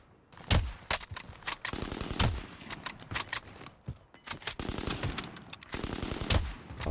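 AK47 fire in Call of Duty on Rebirth Island, several rapid automatic bursts with sharp loud cracks, separated by short pauses, no voices.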